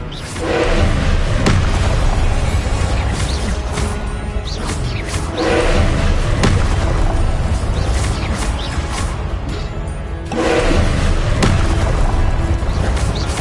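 Repeated Expelliarmus spell casts in the Hogwarts Legacy video game, a string of loud booming thuds and whooshing blasts recurring every few seconds over a dense, steady game soundscape, with no talking.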